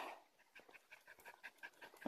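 A dog pants in quick, breathy, rhythmic puffs on a hot day outdoors, close and fairly soft, with no talking over it.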